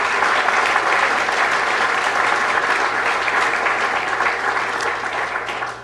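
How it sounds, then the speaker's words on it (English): An audience at a city council meeting gives sustained applause, steady dense clapping from many hands that carries for several seconds before tapering slightly at the end. "Let's give them all a big round of applause."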